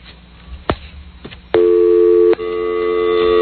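Telephone busy signal heard after dialing a number during a radio talk show, a steady loud two-tone electronic beep sounding alone and continuing through the clip, following a few brief clicks.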